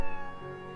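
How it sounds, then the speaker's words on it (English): A single short cat meow from the Professor Layton vs. Phoenix Wright video game, a clear tonal cry that starts sharply and then fades over under a second, with no voices over it. "Sorry, it's my cat. It must be supper time."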